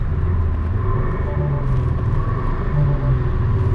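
A Tesla fitted with an exhaust sound system set to mimic a TDI diesel gives off a loud, close, steady low rumble with a droning engine-like tone that holds without pause.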